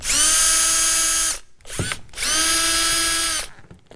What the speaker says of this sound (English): Let's get these screws out so we can push the panel back.